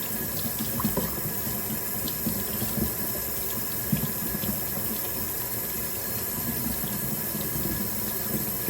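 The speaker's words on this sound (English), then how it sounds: "Now what we're gonna do is just water. Gotta rinse off the leaves as well." Water runs steadily from a hose or tap over the leaves of a big potted plant, making a constant close splashing rush with no talk.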